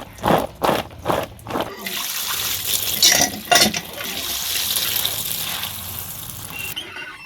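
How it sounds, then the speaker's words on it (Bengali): Freshly cut vegetables are rinsed under a running water tap, giving a steady splashing rush. It starts with several uneven gushes, then settles into a continuous stream. "এখন ধুয়ে নিই কলে করে"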